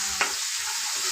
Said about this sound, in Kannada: ಇದು ಎಣ್ಣೆ ಚೆನ್ನಾಗಿ ಫ್ರೈ ಆಗಬೇಕು ಮಸಾಲ ಅಂಬೋದು